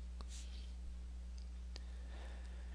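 A few faint mouse clicks from deleting an entry in OneNote 2013, widely spaced single clicks over a steady electrical hum.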